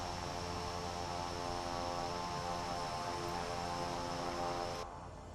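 An aircraft taxiing in Microsoft Flight Simulator 2024, a steady droning engine hum with a constant hiss, holding level and even before the sound drops off abruptly near the end.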